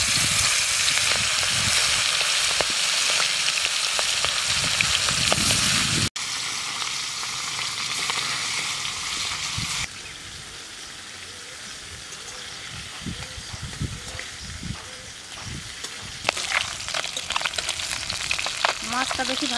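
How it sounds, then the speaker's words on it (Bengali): Singhi fish frying in hot mustard oil, a loud continuous hissing sizzle that shifts in level as the fish goes in, steady and close throughout. "সরষের তেল, তেলটা গরম হয়ে গেছে, এখন মাছটা দিয়ে দেবো।"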